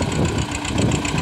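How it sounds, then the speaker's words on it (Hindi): An Escort 335 tractor engine runs steadily at close range, fitted with extra tyres and working on a farm field, giving a continuous loud low-pitched chug with a knocking rumble throughout. "एस्कॉर्ट 335, आवाज़ देखें क्या शानदार आवाज़ है"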